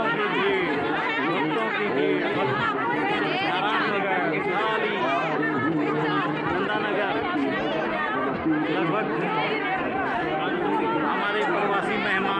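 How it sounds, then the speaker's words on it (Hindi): A dense crowd of devotees chatters continuously at a Garuda worship festival, a steady loud babble of many overlapping voices with no pauses. "और देखिए जनता जनार्दन, भक्तों की भीड़"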